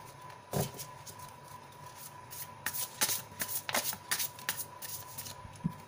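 Tarot cards are shuffled by hand nearby, giving a run of quick riffling and slapping bursts of papery card noise at an uneven rhythm in a quiet room.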